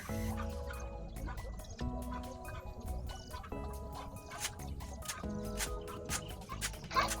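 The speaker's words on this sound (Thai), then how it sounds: "เสียงจอกแจ๊กจอแจนั้นเสียงน้องไก่นะคะ" Chickens cluck and chatter in a backyard coop, heard close up as a busy, irregular stream of short calls with scattered knocks and rustles.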